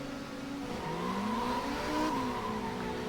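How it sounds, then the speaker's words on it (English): Racing car spinning its wheels at a standing start, with a steady engine drone and rising, sliding tire tones held for about three seconds, loud and close. "That's a lot of wheel spin."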